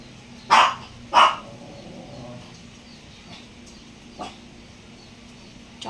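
A pet dog gives two sharp, loud barks in quick succession near the start, then one fainter bark a few seconds later, against a quiet indoor background.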